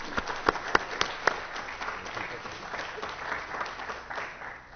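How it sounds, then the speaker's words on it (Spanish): Audience applause welcoming a speaker at a law and technology lecture, a few sharp close claps up front swelling into steady room-wide clapping that gradually fades. "Señores, recibamos con un fuerte aplauso al doctor Alvarado."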